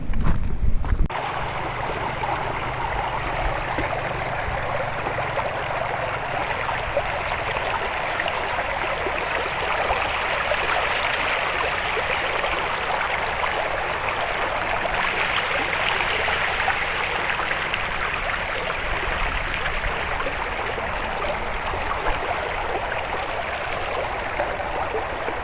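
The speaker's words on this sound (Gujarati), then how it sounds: "જો આ બાજુ પણ નદી કંઈક આવી સ્પીડમાં જાય છે." A fast-flowing village river gives a steady broadband rush of water that holds evenly throughout, close to the microphone, after a short louder bump at the start.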